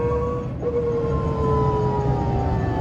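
A Microlino electric microcar accelerates with the throttle pressed to the floor, its motor giving a steady high-pitched whine that holds and slowly shifts pitch, loud and close inside the cabin.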